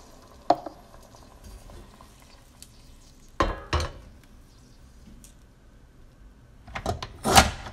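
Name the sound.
hot water poured into frying fennel tajine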